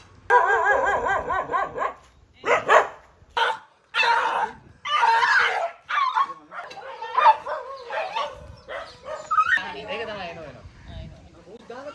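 A stray dog being caught in Sri Lanka barks, yelps and whines in repeated loud bursts at close range, mixed with people talking nearby.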